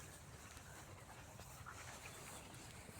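A dog pants quickly and rhythmically close by, soft and quiet, breathing continuously with no talking.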